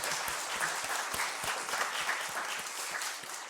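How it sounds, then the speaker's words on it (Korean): A church congregation applauding during a Sunday morning service, producing a steady, moderately loud patter of many hands clapping together for a few seconds. "우리 한번 박수하겠습니다."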